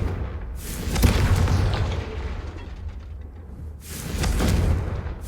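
Confringo fire spell blasts in Hogwarts Legacy striking candelabras: two loud, rumbling booming explosions with long fiery roars, the second arriving a few seconds after the first, with no talking over them.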